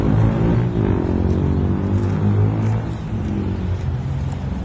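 A companion's pro sports car drives steadily close by, its low engine rumble and harmonic drone holding loud and continuous, easing slightly in the final seconds, with no talking.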